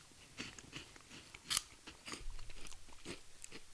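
Airy Cheetos cheese puffs crunch between the teeth, a close-up run of crisp bites and chewing with one sharp loud crack, quiet and intimate with no speech.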